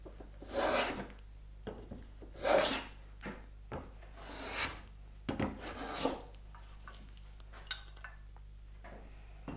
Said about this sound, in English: So let's go back and take a few shavings from both ends.